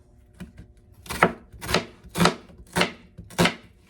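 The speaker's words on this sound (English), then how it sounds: "And I'm just going to rough chop them" Ingredients for fire cider are rough-chopped on a cutting board with a knife, five or six firm, evenly spaced chops ringing out close and clear against a quiet background.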